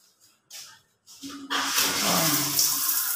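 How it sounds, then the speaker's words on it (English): Water from a washroom shower comes on after a few short knocks and bursts, then runs as a steady loud hiss to the end. "You have a shower. The water is okay."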